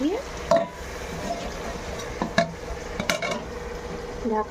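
Meat added to a pan of fried onions, frying with a steady close sizzle and scraping stir strokes, with several sharper clanks of the spoon against the pan.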